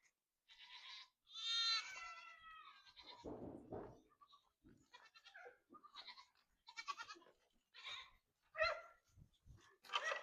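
Several farm goats bleating at close range in a string of separate, wavering calls, with brief gaps between them and no talking.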